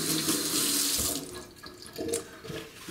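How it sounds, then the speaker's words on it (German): Cold tap water gushes from a faucet into a bowl, a steady close splashing that softens and shifts as the bowl fills. "Daher machen wir jetzt die Schüssel hier mit kaltem Wasser voll."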